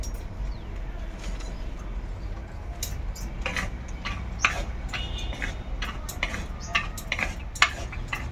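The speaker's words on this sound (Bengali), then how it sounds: "এবার আমি বাদামগুলো তুলে দেবো তেলের মধ্যে। বাদামগুলো একটুখানি ভেজে নিয়ে বাদামগুলো তুলে রাখবো।" Peanuts fry in oil in a pan, giving scattered light clicks and ticks over a steady low hiss, close by and without voices.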